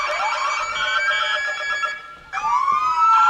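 Police car sirens wail loudly at a Christmas parade, their rising and falling tones overlapping, with a brief dip before the wail swells again.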